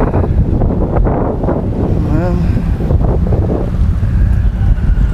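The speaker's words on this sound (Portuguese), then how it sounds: "Vamos lá, a ventania tá intensa." Strong coastal wind buffets the microphone on a new bridge in Balneário Piçarras, Santa Catarina, a loud, constant roar with gusts, while someone speaks briefly over it.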